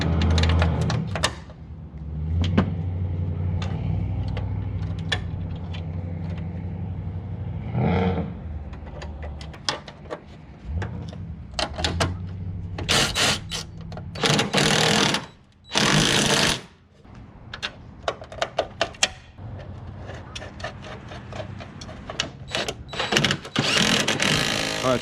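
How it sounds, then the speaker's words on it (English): Impact-style tool driving a 1/2 inch socket to tighten truck bed bolts on a 2005–2019 Toyota Tacoma while fitting bed stiffeners: loud, rattling bursts of hammering that start and stop several times, close by. "we're gonna take our 1/2 inch socket. Just go ahead and tighten it up"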